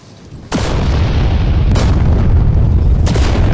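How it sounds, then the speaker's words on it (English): A massive explosion effect booms loud and close, a sudden broadband blast followed by two more heavy impacts rolling over a sustained roar, with no voices. "This massive explosion rocks the ship for a second"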